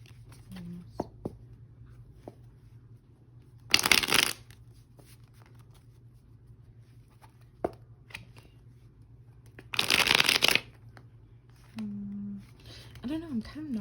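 A tarot deck is shuffled in two short, crisp riffling bursts with a long pause between them, set among soft handling taps and quiet talk in a calm room.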